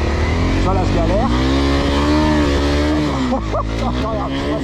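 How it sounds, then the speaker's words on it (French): A motorcycle pulls away hard on sand and shifts straight into second gear, its engine revving and climbing loudly in pitch before the shift, close by, with someone talking over it. "je vais partir assez fort et dès que tu vas voir qu'elle part, en fait je vais mettre une deuxième direct et c'est ça qui va stabiliser la moto"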